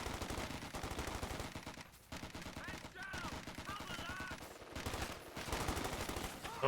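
Machine gun fire in Company of Heroes 2, with dense rapid bursts of gunfire continuing almost without a break and brief lulls between them, mixed with other battle noise at moderate level.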